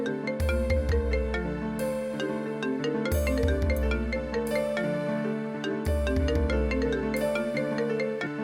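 A phone's ringtone melody rings out during a household scene, bright and electronic. It loops the same phrase several times, loud and clear with no talking over it.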